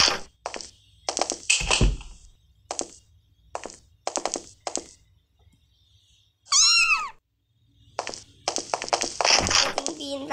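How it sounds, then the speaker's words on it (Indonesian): A cat meows once in Sakura School Simulator, a short rising-falling call heard midway, with a person talking before and after it. "Kucing pintar, anak kucing. Meong meong."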